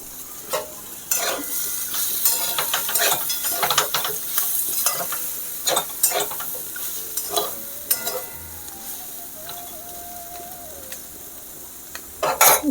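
Potatoes fry with poppy seeds in a pan, giving a soft steady sizzle broken by repeated sharp scrapes and clinks of a spatula stirring against the metal, close and alone.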